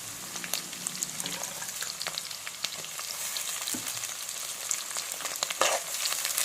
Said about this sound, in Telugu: ఒకసారి ఉల్లిపాయలను వేగనివ్వండి